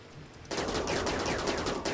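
Colonists shooting at raiders in Rimworld, a sudden dense stream of rapid gunfire that starts partway through and keeps going steadily at moderate volume.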